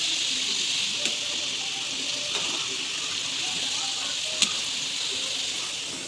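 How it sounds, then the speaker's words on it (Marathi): Mustard dal and garlic frying in very hot oil for a raw mango pickle give off a steady, fairly loud sizzle, with a few sharp pops and light stirring scrapes along the way. "खूप गरम तेल असल्यामुळे मोहरीची डाळ आणि लसूण छान होत आहे"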